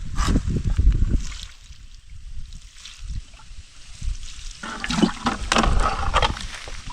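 Water pours onto potted garden plants, including a pineapple plant, as a steady splashing gush that runs loud and close, drops off partway through, then returns with heavier splattering.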